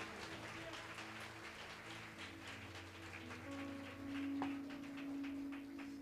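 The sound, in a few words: congregation clapping hands in praise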